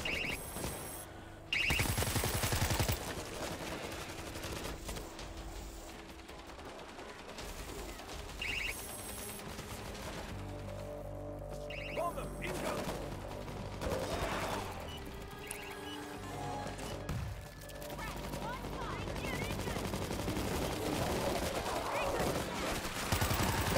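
Turret fire in the zombie video game Darktide, bursts of rapid shots and mechanical clatter mixed with game noise and occasional players' voices across the span.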